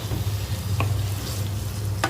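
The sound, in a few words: stirring chicken fried rice ingredients in a pan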